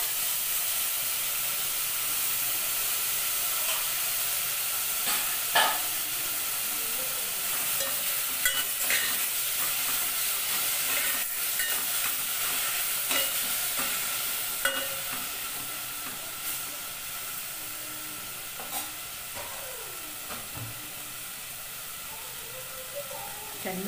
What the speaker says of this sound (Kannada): ಚೆನ್ನಾಗಿ ಫ್ರೈ ಆಗಲಿ ಫ್ರೆಂಡ್ಸ್